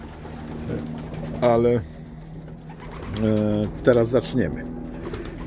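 Racing pigeons coo in a loft at the end of the season, with low repeated coos rising over a steady background hum while someone speaks between them.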